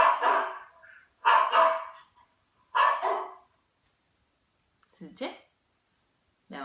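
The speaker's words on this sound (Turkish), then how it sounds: "Bu da bir köpek sesi değil mi? Acaba dışarıda mı havlıyor yoksa bir evde mi?" A dog barks three times in separate bursts, clear and fairly close, followed by a couple of softer, higher yips after a pause.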